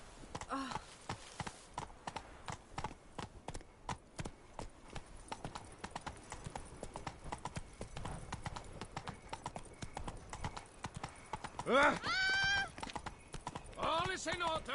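Roach, the horse in The Witcher 3: Blood and Wine, gallops with rapid, rhythmic hoofbeats at a steady pace, while a voice speaks briefly near the end.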